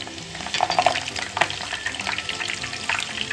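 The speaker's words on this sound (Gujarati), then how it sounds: "આપણે લીલા મરચાં તરીને એડ કરશું અંદર" Green chillies sizzle and crackle in hot oil, fried for rajgira chevdo. A steady, fairly quiet spitting hiss carries some sharper pops and stirring clatter throughout.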